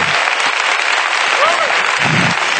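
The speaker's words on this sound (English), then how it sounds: "Let's clap our hands and give him praise right now." Church congregation clapping hands in praise during a sermon, a thick continuous wash of applause with a few faint voices and a brief higher cry rising through it.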